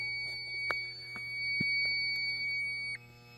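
A faint electronic trouble buzzer tone from an ADT Unimode 4520 alarm panel, after AC power is cut, hums steadily over a low background drone, with a couple of soft beeps and clicks before it drops away.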